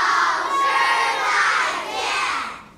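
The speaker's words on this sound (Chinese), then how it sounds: "大家欢呼了，大家欢呼了" A classroom of schoolchildren erupts in loud, sustained cheering and shouting as class is dismissed, a dense crowd of young voices rising in two or three swells before fading out.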